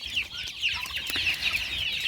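Young chicks cluck and chirp continuously nearby, several birds overlapping in a busy, high-pitched chatter with no speech.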